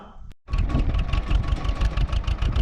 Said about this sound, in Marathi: तसं कर तुझं ट्रॅक्टर चालू यंत्र जोडून घेऊ